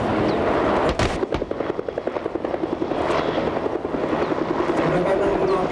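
Two military helicopters fly in from the south to carry out an air evacuation during an enemy-territory attack simulation, giving a steady, loud rotor chop with rhythmic pulsing throughout and a sharp bang near the start.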